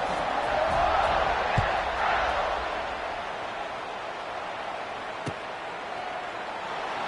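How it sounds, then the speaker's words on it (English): Stadium crowd in the College Football 26 video game, a steady broad roar and murmur that swells early and stays at an even, moderately loud level after a score, with a couple of brief thuds. "this crowd is buzzing after that last score"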